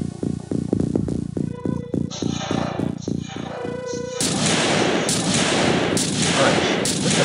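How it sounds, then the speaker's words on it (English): Automatic gunfire in the video game Piratez: a fast burst of about a dozen rapid shots, followed by a louder, sustained crash of destruction noise, with no talk. "If you can take an auto shot, that would be great."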